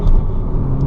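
Steady rumble of a car driving on the road, loud and close, with a continuous engine and tyre drone and no voices.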